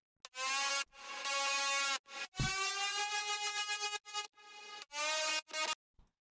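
Third layer of a synth lead for a future trap beat, a bright harmonic-rich tone sounding in sustained, gliding notes separated by brief breaks, with a wobbling vibrato-like pulse in one note, prominent and without voices.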